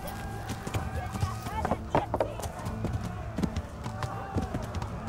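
A horse gallops in the medieval game Kingdom Come: Deliverance, with a fairly steady run of hoofbeats under a soft game score while someone speaks over it.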